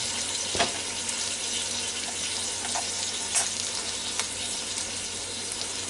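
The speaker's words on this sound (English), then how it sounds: "I hope you can hear that sizzle." Bacon-wrapped pork tenderloin sizzles in a Ninja Foodi cooker: steady broadband sizzling and crackling hiss, continuous and fairly close, with a few louder pops scattered through.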